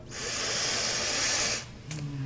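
One long, deep breath drawn during a guided eyes-closed relaxation exercise, a steady airy hiss lasting over a second before it stops, close and with no talk.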